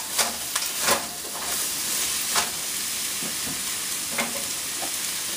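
Vegetables for garden stuffed peppers sauté in a pan with a continuous close sizzle, punctuated by a few sharp taps and scrapes from a utensil.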